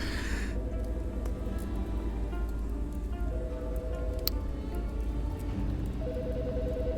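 A phone ringing in the video game Autopsy Simulator, with repeated electronic ring tones over a steady rain-like background hiss, fairly clear and continuous.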